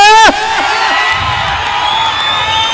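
A live stage show crowd for a singer cheers and whoops loudly from the start, a dense steady roar of voices and shouts that carries on throughout.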